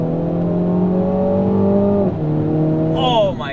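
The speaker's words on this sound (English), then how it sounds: "I bet you it has some sort of artificial engine sounds" A car engine in sport mode holds a loud, steady droning rev close by, dips briefly as if shifting, then climbs again before a higher whine sweeps in near the end.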